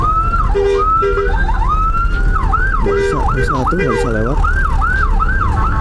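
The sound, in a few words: ambulance siren in traffic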